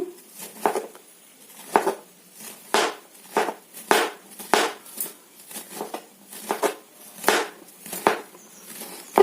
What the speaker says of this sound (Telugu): ఇలా అయితే కట్ చేసేసుకోండి ఫ్రెండ్స్. బాగా చిన్న ముక్క రావాలండి.